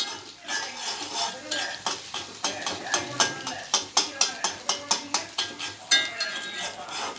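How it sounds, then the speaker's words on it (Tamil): Rapid metal-on-pan scraping and clinking as a spatula stirs and sautés a mixture in a frying pan, a steady run of sharp strokes over a faint sizzle. "வதக்கி விட்டுக்கிட்டே இருக்கணும்."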